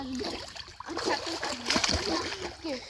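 A child splashes while learning to swim in a village pond, with close, choppy water slaps and sloshing as children's voices talk and call out over the water.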